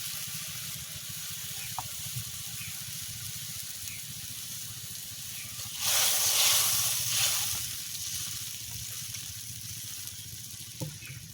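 Tamarind water pours into a cooking pot for a sour prawn dish in a village kitchen, a short gushing splash of about a second and a half rising over a faint background hiss, with small clinks before and after.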